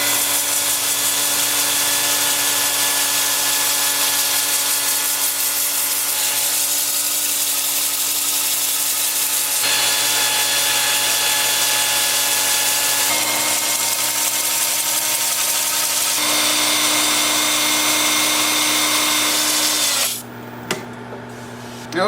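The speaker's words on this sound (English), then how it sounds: "the sanding is making quite a difference here" An end-grain wooden bowl spins on a lathe while 80-grit sandpaper is held against it, producing a steady, loud abrasive hiss over the lathe's constant hum, which cuts off near the end.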